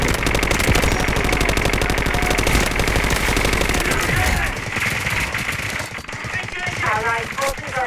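In the Delta Force shooter game, rapid automatic gunfire rattles continuously for about four seconds before thinning into sparser shots and game sounds, with a voice talking over the end.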